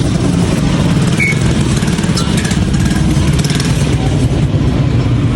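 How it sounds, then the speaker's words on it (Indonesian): A motorcycle ridden through the streets of Tareem, its engine running as a steady, loud drone with rushing wind noise throughout, no distinct revs standing out. "Sambil naik motor."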